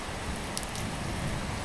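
Steady rain falls in a short film, a dense, even patter of drops on surfaces that is close and continuous, with a few brighter splashes standing out briefly.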